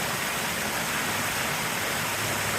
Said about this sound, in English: That is a cool waterfall.